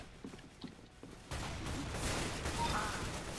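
Shotgun fire in the video game Counter-Strike: Global Offensive, heard as a sudden burst of dense, booming gunfire that holds on after quieter clicks and rustles at the start.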